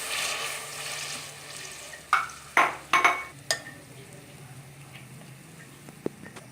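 Onions frying with garlic and ginger in a pot for gobhi gosht, a soft steady sizzle with a few sharp clinks and stirring knocks near the middle, then settling into a quiet hiss.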